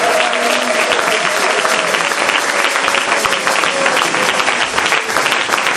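A church congregation applauds Jesus with sustained, dense clapping that holds steady and loud throughout, with voices faintly mixed beneath the applause.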